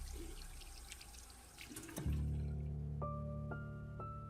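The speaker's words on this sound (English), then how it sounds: "There was a familiar squeak, the sound of the faucet turning." Water bursts from a turned faucet after a brief squeak and clatter, then runs in a steady, full stream into a sink, close and alone, slowly easing off toward the end.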